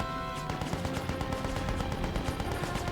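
AK rifle fire in the video game Mercenaries: Playground of Destruction, a steady stream of rapid automatic shots at an even rhythm, loud and close with no voices over it.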